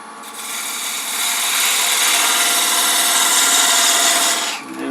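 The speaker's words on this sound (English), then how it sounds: "we're going to use the 1/8 inch parting tool, and we're going to come in and make a little wider part on the outside" A 1/8 inch parting tool cuts into wood spinning on a lathe, giving a steady, loud, close rasping scrape that holds for several seconds with no talk.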